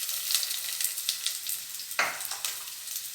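Onion and green chilies fry in coconut oil in a clay pot, making a faint, steady hissing sizzle with one brief scrape of stirring partway through.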